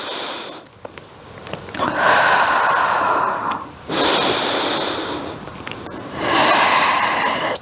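A prenatal Pilates instructor breathes slowly and deeply in a second-trimester session, with long audible breaths repeating in a steady cycle close to the mic and no talking.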